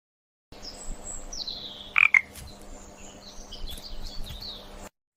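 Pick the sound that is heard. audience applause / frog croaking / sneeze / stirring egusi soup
frog croaking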